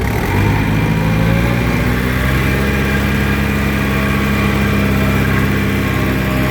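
A loud, steady rumbling tractor engine runs close by at a constant throb throughout, pushing a vehicle in rain, with no voices.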